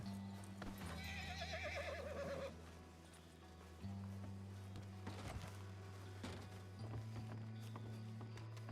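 Horse hooves and a whinny in the western role-play video game WildRP, a Red Dead Redemption 2 role-play server: a loud neigh opens over a steady low drone, then clip-clop hoofbeats and some shuffling follow in a quiet ambient scene.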